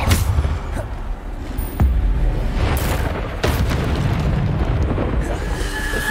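Bombarda spell explosions in a Hogwarts video game go off repeatedly over a constant loud rumbling bed. Several sharp booming bursts punch through in quick succession, dense and close, with the chaotic sound of a magical battle.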